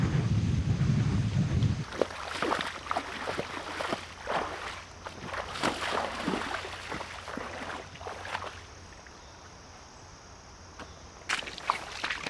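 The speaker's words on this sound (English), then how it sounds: "This wind is awful, and it's way colder than I thought." Cold, gusty wind blows by a river, buffeting the microphone with a steady low rumble, while crunching footsteps or handling sounds come and go over it.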